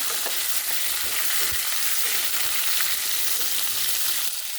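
Thin-cut radish strips and potatoes frying in hot oil for a bata fish curry, a steady, dense sizzle close by with faint stirring clicks, no voices.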